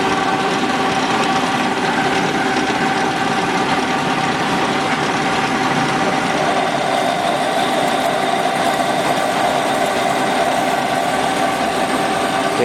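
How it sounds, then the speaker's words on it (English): A metal lathe spinning at 171 RPM while feeding a cutter into a small bore on a steel transmission adapter, giving a steady, continuous mechanical hum and whine with a faint ringing tone, constant in level throughout with no speech. "I've got the lathes sped up to 171 for RPM because we're working on a smaller hole now"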